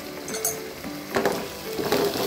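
Shrimp masala with tomato and turmeric being stirred in a pan, a soft sizzle with scraping stir strokes, close and steady, without talk.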